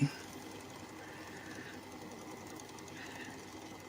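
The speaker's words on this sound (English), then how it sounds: "These bristles are going to start brushing and cleaning itself." The base station of a Dreame X40 Ultra robot vacuum runs its bristles over the tray, giving a steady mechanical whir with a faint rhythmic scrubbing, close and moderately quiet.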